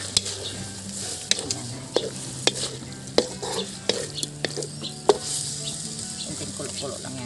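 Octopus adobo with oyster sauce and butter simmers in a pan, giving a steady sizzle and bubbling broken by a series of sharp clacks as a utensil stirs against the pan, close and fairly loud.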